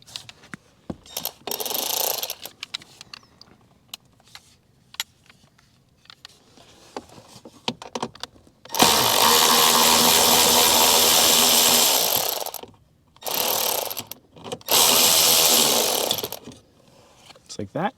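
A power ratchet spins off the airbag nuts on a Chevy Camaro SS steering wheel in loud, sustained whirring bursts, one long run and two shorter ones, between quieter clicks and handling noises.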